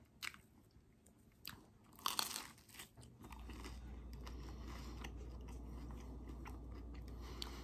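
Crisp crunching bites of DiGiorno croissant-crust pizza near the mic, a few sharp crackly chomps early on, then steady chewing over a constant low hum.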